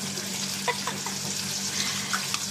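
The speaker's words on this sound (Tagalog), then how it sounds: "lagyan natin ng itlog ang ating patola" Egg going into a miswa noodle soup with patola simmering in a pan, a steady close sizzle and bubbling with a few soft stirring knocks, no voices over it.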